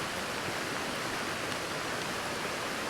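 A video game waterfall in the Perserverance Wilds gives a steady, dense rushing hiss of falling water, constant and fairly close with no breaks.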